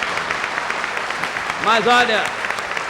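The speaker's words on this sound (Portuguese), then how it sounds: "Palmas outra vez" A 1979 television studio audience breaks into clapping and cheering, steady applause under a voice speaking.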